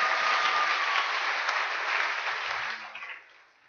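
A church congregation claps together in a dense burst of applause that holds steady, then thins and fades out over a few seconds.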